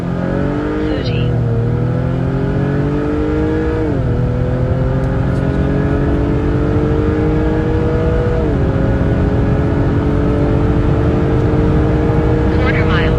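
An Acura TL accelerates hard on a quarter mile run, its engine climbing steadily in pitch through several gear shifts, loud and close throughout.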